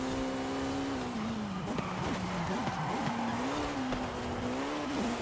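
Jaguar C-X75 in Forza Horizon 5 accelerating hard, its engine a loud continuous rising drone that dips and climbs through gear changes and cornering, with tire squeal mixed in.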